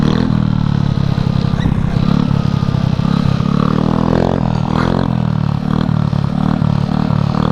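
A two-stroke Honda Elite scooter buzzes loudly and close during wheelies, its engine note rising and falling with throttle blips and clattering, raspy pops along the way.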